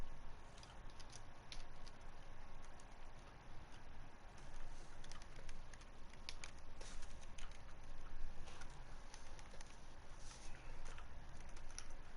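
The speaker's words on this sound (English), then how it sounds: "How loud is my keyboard?" Quiet typing on a computer keyboard, a steady patter of soft key clicks in a calm room with faint background hiss.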